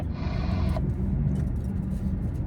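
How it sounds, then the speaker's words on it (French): A car approaches on the road, heard from inside a heavy truck as a steady low rumble that swells slightly, over constant cab and engine noise. "Une voiture qui arrive."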